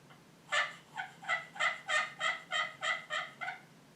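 A Nightingale Sweet Hen turkey call is worked in a run of about eight hen yelps, evenly spaced and close, moderately loud over a faint background hum, with no voices.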